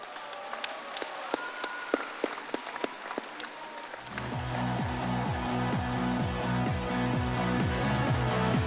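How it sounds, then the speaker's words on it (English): An audience at a World Scholar's Cup senior debate showcase in Hanoi applauds panelists walking in, scattered claps at first, then swelling into dense, steady applause that continues to the end. "As our panelists come in, can you guys give them a round of applause?"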